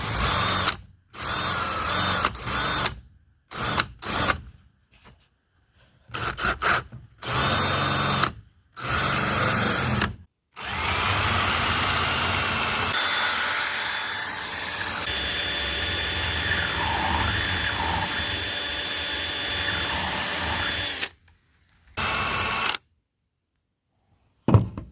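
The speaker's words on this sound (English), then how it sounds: "The reason I'm drilling a hole here is so I can put my" A power drill bores a hole in a wooden board, with short whirring bursts starting and stopping, then a long sustained run of loud, close drilling, followed by a few final brief bursts.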